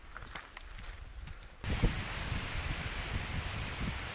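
Wind gusting through a forest along the Appalachian Trail in Great Smoky Mountain National Park on a cold morning. The roar jumps abruptly from a light breeze to a steady, broad rush with rustling foliage, loud and close to the microphone.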